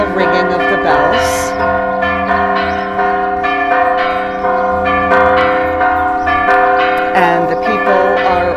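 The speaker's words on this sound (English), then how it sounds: "Now that the bells are ringing, it is almost time for Mass" Hand-rung church bells in a Mexican town peal loudly and continuously before Mass, overlapping strikes in an uneven rhythm close by.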